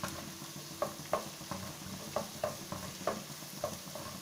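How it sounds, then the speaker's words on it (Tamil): Carrots sizzle in a pan while a spoon scrapes and stirs in quick irregular strokes, close up, with no talking. "கேரட் போட்டு வதங்குறது."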